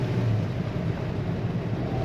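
A 1966 Dodge Charger with a 426 Hemi V8 and manual clutch accelerating, heard from inside as a steady, low engine rumble with road noise and no talk.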